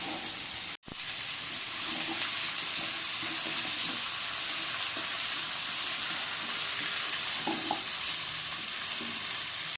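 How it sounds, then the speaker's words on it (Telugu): Pumpkin pieces fry steadily in a pan for a sweet pumpkin curry, a continuous close sizzle with occasional stirring scrapes and soft knocks, broken by one brief gap near the start. "ఇప్పుడు వీటన్నింటినీ కొద్దిగా ఫ్రై అయ్యేలాగా ఫ్రై చేసుకోవాలి"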